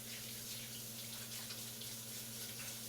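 A kitchen tap runs steadily into a sink while hands are washed during pizza dough making, a close, even rush of water that lasts the whole stretch without a break.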